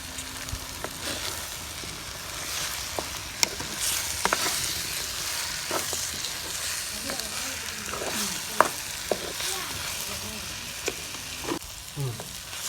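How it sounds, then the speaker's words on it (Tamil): Small chicken pieces fry in masala as they are stirred, with a steady sizzle over frequent sharp scraping and clinking strokes of a spoon against the pan. "இப்போ குட்டி குட்டியாக கட் பண்ண சிக்கனை அந்த மசாலில் சேர்க்குறோம்."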